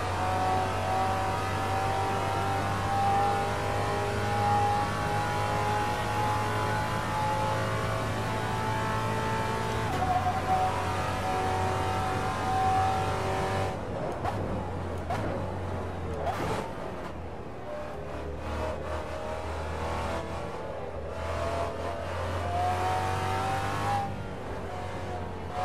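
Racing sports car in the Assetto Corsa game, faster than the stock Lamborghini, holds a loud, steady engine drone with pitch climbing through gears, sharp shift breaks, and a brief stretch of rougher, lower revving.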